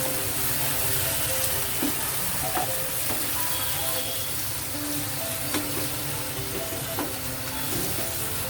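Papaya and cucumber stir-fried in milk and soybean oil give a soft, continuous sizzle with faint scraping stirs scattered throughout, low in level.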